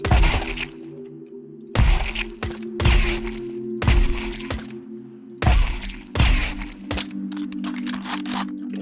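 Pistol shots in Counter-Strike 2, about six sharp, loud, close reports spaced roughly a second apart, each with a low ringing tail, followed by lighter clicking.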